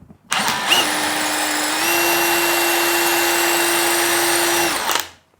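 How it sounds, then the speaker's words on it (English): A cordless drill bores a pilot hole into oak beside a staircase stud, one continuous close, loud whine lasting about four and a half seconds that rises slightly in pitch midway before spinning down. "I'm going to pilot this because it's oak."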